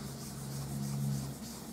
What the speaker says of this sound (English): I'm going to rub my embossing buddy over the top of this.